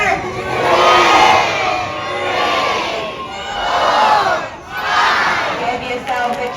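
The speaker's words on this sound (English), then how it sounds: "Give yourself a cheer, well done." An audience at a safari park sea lion show cheers and shouts loudly, with children's voices prominent, rising in repeated waves of whooping and yelling.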